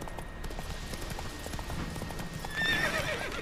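Roach the horse galloping in The Witcher 3, steady rapid hoofbeats thudding close throughout, with a brief neigh near the end.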